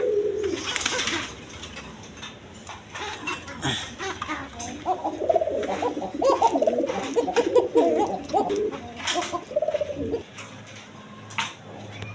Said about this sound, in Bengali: এখানে এক পেয়ার সিলভার কবুতর আছে দেখেন